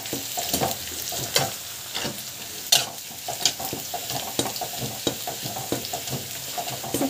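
Raw jackfruit chips frying in hot oil: a steady, close sizzle with irregular stirring scrapes and clinks against the pan, no voices.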